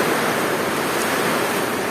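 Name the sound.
heavy rain downpour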